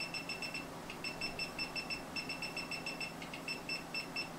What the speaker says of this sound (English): put the continuity tester function on, and I'm going to spin the wheel